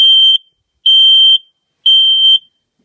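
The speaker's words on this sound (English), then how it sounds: "we just installed a working smoke alarm" Three loud, piercing smoke alarm beeps, each about half a second long, evenly spaced with silence between them.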